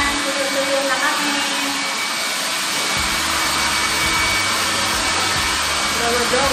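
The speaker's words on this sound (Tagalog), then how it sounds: "Blower." A hair blower dries hair after an at-home DIY hair colouring, giving a loud, steady, close whooshing drone that deepens partway through, with no speech over it.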